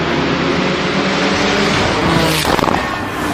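A Porsche car engine rumbles continuously up close, with a brief rushing swell near the end.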